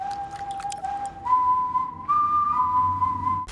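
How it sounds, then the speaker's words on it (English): A menacing film character whistles a slow, steady tune, the sustained tones clear and fairly loud over a faint background, with no talking. "Then we hear that whistle."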